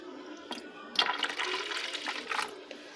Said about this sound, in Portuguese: Aqui está 150 ml de água morna e eu vou acrescentar.